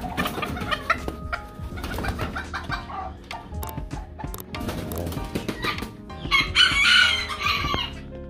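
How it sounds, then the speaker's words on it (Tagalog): Modern game bantam rooster, a miniaturized fighting-cock breed, crows loudly and close, a single drawn-out crow rising near the end amid a busy background of other fowl clucking and calling. "ito yung modern game Bantam. Pansabong siya na manok pero pinaliit"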